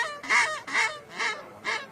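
Duck call from a Louisiana game-call maker blown in four quick, loud quacks with a whiny, raspy edge added to the usual bass note, each short burst separated by brief gaps.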